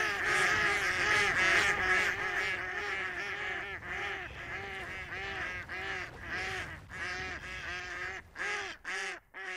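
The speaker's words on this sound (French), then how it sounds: "lorsque des oiseaux vont passer, gibier ou non, ces cannes vont intensifier leur voix" Female decoy ducks in the Baie de Somme call loudly and continuously, a dense overlapping chorus of honking quacks that swells in intensity, close and unbroken, with no talking over it.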